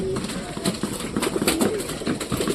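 Domestic pigeons coo in short, muffled phrases close to a household bird cage. The coos sit within a noisy, busy background, and there is no clear talking.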